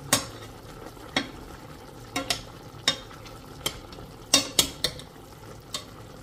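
Onions added late to chicken adobo fry in a pan at close range, a steady sizzle broken by repeated sharp scrapes and clacks of a utensil stirring against the pan, with no talking.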